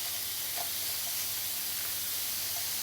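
Sliced onions dropped into a hot dry pan without oil give a continuous bright hiss and sizzle at a steady level, with a few faint pops and no talking.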